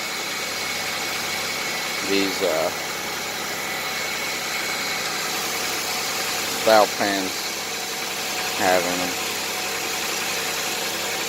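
A Pontiac 3400 Ram Air engine idles steadily at mid pitch throughout, with a low continuous hum while someone talks in short bursts over it.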